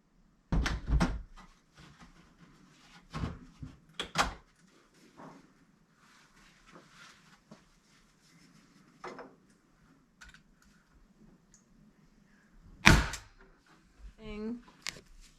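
A door being hung knocks against the top of its frame in a few sharp wooden thuds, close and loud, with people talking quietly around the impacts.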